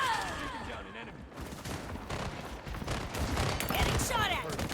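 Gunfire from the shooter video game Highguard: dense bursts of shots and fusillade under a busy in-game soundscape, fairly loud and continuous, with some voice-like game chatter mixed in.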